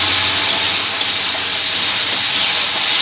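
Spice paste for a vegetarian besan bora chorchori fries lightly in a pan, giving a steady, loud, unbroken sizzling hiss throughout with no talking.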